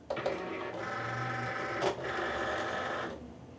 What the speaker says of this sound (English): I press this load button, and it'll pull the mat into the machine a little bit